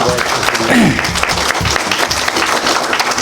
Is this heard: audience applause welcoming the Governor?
yes